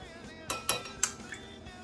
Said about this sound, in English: I'm just going to give it a little mix.